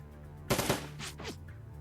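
A short, loud burst of gunfire from a troll's big gun in the video game Shadowrun Returns Dragonfall, a rapid cluster of shots lasting about a quarter second, followed by a couple of fainter trailing reports, with no talking.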